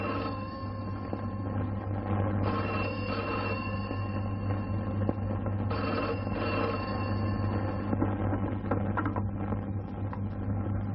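Old-style telephone bell ringing in a Hindi film scene, a steady repeating ring with short pauses between bursts, fairly loud and continuous over a low background hum.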